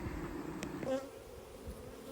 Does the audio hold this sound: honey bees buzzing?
yes